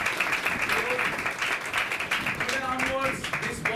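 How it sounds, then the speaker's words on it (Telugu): An audience claps together at a crusade gathering, a dense, even burst of applause lasting a few seconds, with voices mixed into the clapping. "అందరూ చప్పట్లు కొట్టుకోండి"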